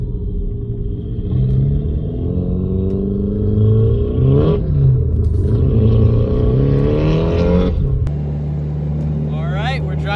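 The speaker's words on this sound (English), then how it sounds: "Drift car on the street." Drift car with a body kit and a cheap paint job driving on a street, its engine a loud close rumble with rising revs and gear changes, while people talk over it throughout.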